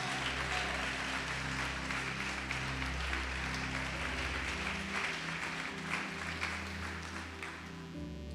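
Church congregation applauding during a sermon, a dense, continuous clapping spread through the room over a low background hum, fairly quiet and steady throughout.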